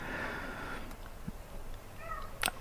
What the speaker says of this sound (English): you heard that? That's Kitty, sounding a bit dramatic, but she's okay